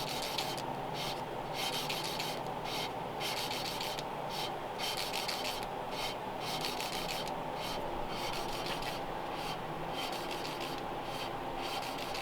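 Steady rasping rub of lapping compound being worked on a carbon-caked engine part from a 1938 Ford, a continuous close gritty scrubbing with rhythmic strokes and no talk.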